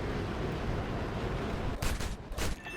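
Aircraft cannon fire aimed at a MiG-9 in a flight combat game, heard as a continuous rushing roar of engine and guns, with two sharper bright bursts near the end.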